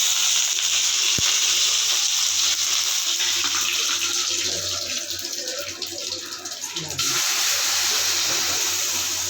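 Spices temper in hot oil for an egg gravy, a loud, steady, close sizzling hiss that runs the whole time and eases briefly midway before swelling again.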